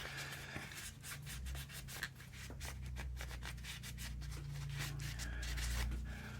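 Close rubbing and scraping as dirt is cleaned from inside a Tokyo Marui MWS airsoft gun, a steady run of quick dry strokes with no voices.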